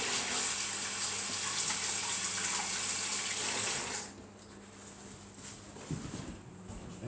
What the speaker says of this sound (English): After that you're going to need to wash your hands again